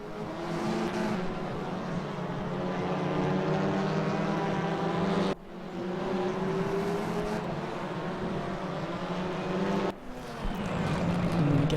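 WTCR touring cars lap the Nordschleife in a racing video game, engines droning loud and steady with rising pitch through gear changes, broken by two abrupt shifts as the cars pass through a chicane.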